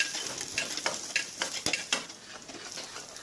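Curry leaves, mustard seeds, lentils and garlic crackle in hot oil for a tomato curry. Close, brisk sputtering comes with sharp pops and spits at irregular moments. No one speaks.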